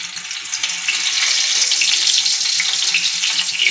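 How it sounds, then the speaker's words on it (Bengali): Bay leaves and dried red chillies sizzle in hot oil in a wok, a steady, loud, bright crackling hiss throughout with no talk. "তেলটা আমার গরম হয়ে গেছে। এখন তেজপাতা, শুকনো লঙ্কা"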